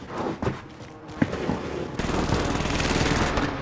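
Sustained automatic gunfire rattles loudly and densely during a Call of Duty Warzone match, with a few scattered shots first, then continuous bursts.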